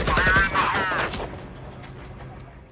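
A quick burst of rapid gunfire cracks out loudly, then fades into a rumbling echo.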